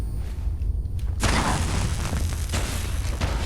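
Grenade blast in the video game Fallout 4, a sudden loud boom about a second in that rolls into a sustained rumbling roar through the rest of the moment.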